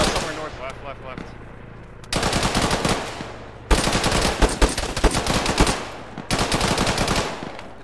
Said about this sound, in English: We're taking fire from somewhere north.